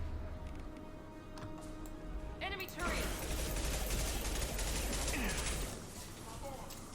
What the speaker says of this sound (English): Right, I've got to use my submachine gun here.